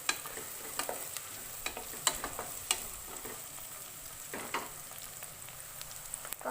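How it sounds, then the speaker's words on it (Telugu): Onions and green chilies frying in oil for a home-style Hyderabadi gongura mutton curry, a quiet steady sizzle with scattered spoon scrapes and crackles spread through the pan, no talking. "ఉల్లిపాయలు బ్రౌన్ కలర్ వచ్చే వరకు వేపుకోవాలి."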